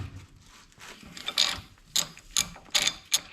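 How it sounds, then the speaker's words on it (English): A 17mm socket and ratchet loosening a castle nut on a Kawasaki Brute Force 750 ATV ball joint, giving several short bursts of close metallic ratchet clicking separated by quiet gaps. "To remove this castle nut, we are going to be using a 17mm socket and ratchet."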